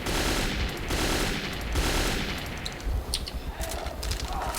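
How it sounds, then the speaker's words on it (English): Gunfire in the video game Metro 2033 on PC, with sustained bursts of rapid automatic shots at first, then scattered single cracks and short volleys. "Somebody was still shooting at me."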